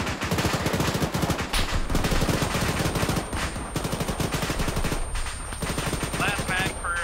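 An ARMA 3 machine gun fires rapid, steady bursts up close, a dense rattle of shots that dominates throughout, with occasional brief pauses and voices in the background.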